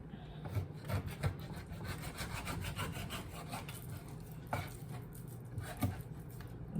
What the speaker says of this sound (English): I'm cutting through the skin, so that's why it's a little bit difficult.